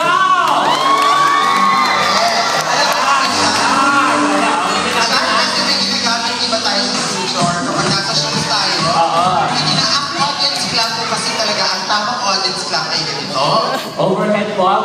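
A birthday party audience at a first-birthday comedy show cheers, whoops and shouts loudly and continuously, a dense crowd roar with children's high yells mixed in.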